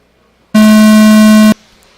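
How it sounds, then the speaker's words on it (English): A single loud electronic race start tone sounds at an RC off-road raceway, a steady pure buzz lasting about one second that begins and ends abruptly against near silence. "Drivers and marshals on the sound of the tone."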